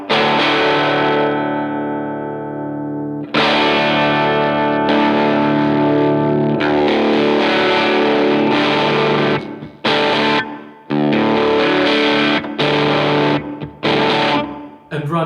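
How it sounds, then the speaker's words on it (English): Heavy fuzzy distorted guitar through a boost pedal, loud and sustained, playing chords and notes that cut off abruptly into brief silences. "when you engage boost number 2, it can really set the rails low and you can get some really interesting fuzz"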